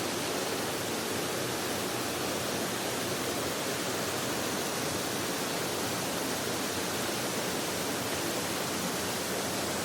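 Water crashing down at a waterfall by a Shiva temple in the rain season, a steady, loud, dense rushing roar that fills the whole span without a break.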